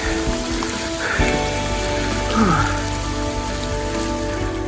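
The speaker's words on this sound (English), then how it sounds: "It's raining now, alright, isn't it?" Rain patters steadily on a surface, heard from inside a vehicle over a constant low engine hum.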